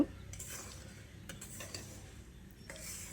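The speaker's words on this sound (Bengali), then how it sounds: "এবার গুড়টা দিয়ে ভালো করে নেড়েচেড়ে মিশিয়ে গুড়টাকে একটু গলিয়ে নিতে হবে।" Sugarcane jaggery is stirred in a pan to melt it, with soft, close scraping strokes and faint clinks over a low sizzle, quiet and steady.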